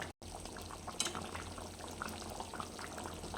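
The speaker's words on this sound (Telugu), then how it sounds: "చికెన్ బాగా ఉడికిపోయింది కదండి" Chicken curry boiling in a pot on a home kitchen stove, a steady close bubbling and simmering with small pops and spits throughout, no voices.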